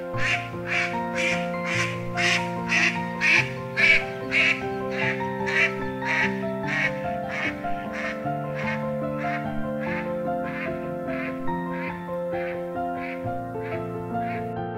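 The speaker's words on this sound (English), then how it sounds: "Blue-headed mallard." A blue-headed mallard duck quacks in a long, steady series of loud, evenly spaced calls, close and clear, over a layered tonal music bed.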